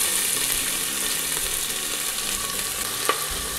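Large onions frying in a pan for homemade toor dal kichadi produce a steady close-up sizzle, with a brief metallic clink near the end.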